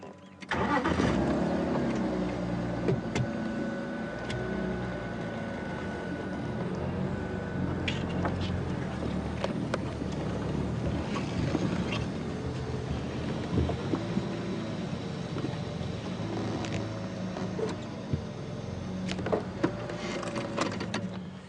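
A safari game-drive vehicle at a game reserve starts up close by and idles, then pulls forward and moves a short distance, its mid-pitched engine droning steadily throughout with outdoor ambience around it.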